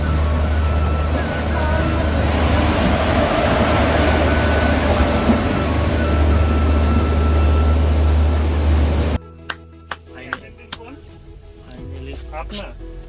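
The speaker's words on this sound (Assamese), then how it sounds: "देखो ट्रेन आ गया" A train pulls in on a trip to Darjeeling with a loud, continuous low rumble and roar for about nine seconds. The scene then cuts abruptly to quieter surroundings with a few sharp knocks, and people talk over it.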